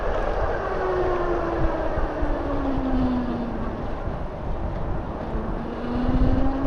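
Bafang geared hub motor on an e-bike with a welded clutch, braking under regeneration: a steady whining tone that slowly falls in pitch over continuous road and wind rumble, close and fairly loud.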